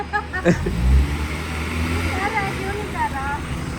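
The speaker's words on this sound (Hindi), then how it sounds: "ये गाड़ी गई आगे।" A car pulls away and drives off on a road departing Islamabad, a low engine rumble that carries on steadily beneath people talking nearby.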